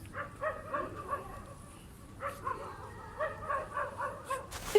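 Dogs confined in cages at an illegal puppy mill in India cry and whimper in repeated high, wavering yelps that come in clusters with short pauses, moderately close and with faint background noise.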